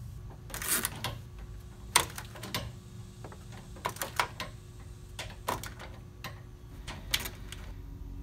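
A torque wrench clicks in short, sharp snaps as motor mount bolts on a GM vehicle are tightened, with irregular clusters of clicks over a low background hum.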